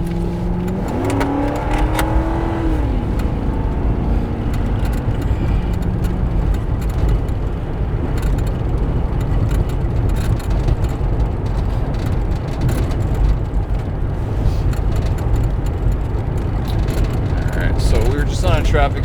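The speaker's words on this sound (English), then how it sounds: "this car passed us" A car passes a patrol vehicle at night on a road in Nye County, Nevada, a steady engine and road rumble that stays loud, with radio chatter and talking mixed in over the noise.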